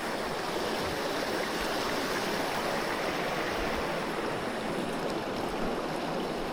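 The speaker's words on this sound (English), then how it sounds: "a clear water creek like this" Steady rushing of a clear creek flowing over rocks along Paddy's River, a continuous close-up burble of water with no voices.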